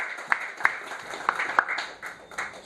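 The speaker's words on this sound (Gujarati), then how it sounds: "આને આપણે તાળીઓથી વધારીએ." Audience applause at an entrepreneurship event in Surat, with scattered sharp claps and a few louder hits in a light, uneven patter.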